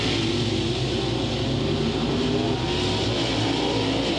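Late model race cars accelerating at Crossville Raceway during a heat race, a continuous loud engine roar with layered revving drones from the pack, steady and sustained throughout.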